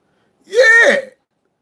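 A man gives a single short, harsh cough-like burst, close and loud, lasting about half a second before silence.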